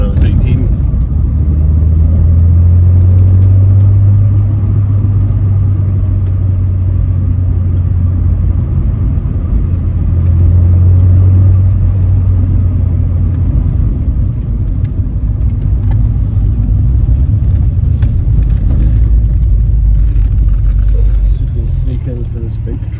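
Blue MK2 VW Golf GTI 16v driving on the road, its engine a steady low rumble with a deep drone that holds throughout, heard from inside the car with someone talking over it.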